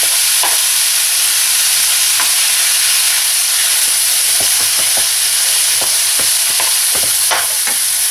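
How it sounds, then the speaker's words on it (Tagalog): Minced pork and minced beef sizzle loudly and steadily in a hot pan while a utensil scrapes and stirs through the meat in scattered knocks, close up with no talk. "i-render natin yung ating minced pork and minced beef"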